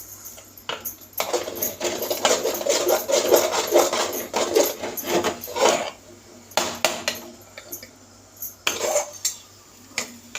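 A spoon scrapes and clatters against a pot while thick fenugreek kali is stirred with sesame oil, in bursts of metallic scraping that pause briefly and resume, close and fairly loud with no talking.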